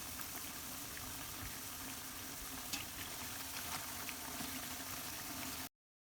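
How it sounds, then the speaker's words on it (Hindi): Bread pakoras deep frying in hot oil, a steady dense sizzle and bubbling with a few faint pops, close and continuous with no voices. "पकौड़े जो है बड़े अच्छे फ्राई हो गए हैं"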